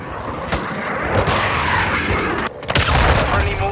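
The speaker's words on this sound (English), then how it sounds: "Friendly cruise missile deployed." Cruise missile strike explosions in Call of Duty Modern Warfare 2, a dense run of loud booms and crackling blasts filling the whole clip, with a sharp burst near the end.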